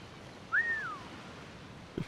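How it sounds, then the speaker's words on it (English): A single short rising-then-falling whistle from the Assassin's Creed IV: Black Flag video game, heard alone and fairly clear, followed by a brief soft knock near the end. "I see the whistling hasn't improved."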